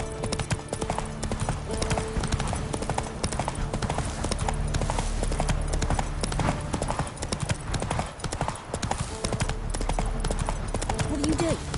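Hooves of Roach, the horse in The Witcher 3, pound in a fast, steady galloping rhythm, close and continuous, under game music with a voice speaking briefly.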